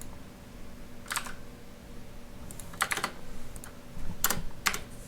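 Keystrokes on a computer keyboard come in short irregular bursts of clicks over a low steady hum, moderately close, with no talking.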